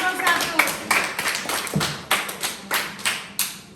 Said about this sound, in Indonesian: kita tepuk tangan dulu untuk kelompok